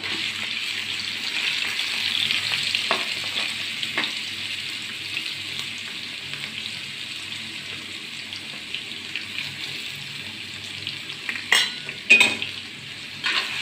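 Finely chopped garlic frying in a pan for a Kerala-style pork dish, a moderate steady sizzle with soft stirring scrapes and a few clinks of a utensil toward the end, no voices.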